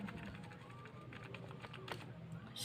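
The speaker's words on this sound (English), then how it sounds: "Then you will type your code here." Keys tapping on a computer keyboard while code is typed for a loops programming tutorial, a steady stream of light clicks close by, with faint murmuring in the background.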